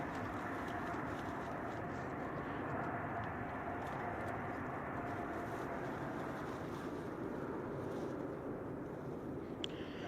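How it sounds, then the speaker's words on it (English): A KLM Boeing 777-200ER arrives at San Francisco Airport, heard as a steady broadband jet roar under distant airport rumble. "Our next arrival is at KLM Asia, coming in from Amsterdam. It's a Boeing 777-200 ER."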